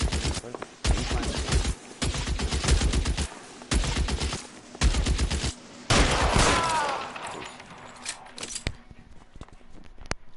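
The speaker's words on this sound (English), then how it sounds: "Just get far and shoot" Gunfire in the video game L.A. Noire: rapid bursts of shots in several clusters, loud and close with short pauses between, then a brief whistling swell and sparse single shots fading out.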